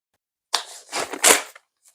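A Nerf Rival Takedown blaster fires over a chronograph in a workshop, giving a short burst of close, sharp mechanical clatter and a loud pop lasting about a second, followed by a faint tick.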